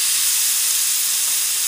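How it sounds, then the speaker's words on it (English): Marinated tandoori fish sizzles in a very hot pan: a loud, steady, close hiss that holds without a break, with no voices over it. "And you want to hear that sizzle."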